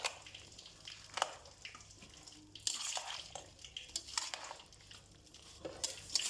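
Chopped apple, melon, banana and dates are mixed together for fruit chaat, with soft, uneven squelching and light clinks of stirring, faint and close with no talking.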